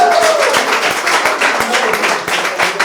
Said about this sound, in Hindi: एक बार रितिका के लिए जोरदार तालियां